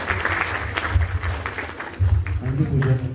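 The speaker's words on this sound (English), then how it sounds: "Big round of applause for him." A conference audience applauds during a presidential address, with a broad wash of clapping mixed with a low voice and microphone hum. Talk and a louder patch come near the end.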